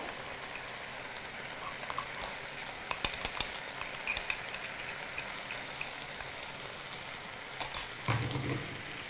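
Spice powder of coriander seed and garlic being stirred into a tomato, cauliflower and potato curry, with scattered spoon scrapes and clicks over a soft, steady simmering sizzle, a firmer scrape near the end.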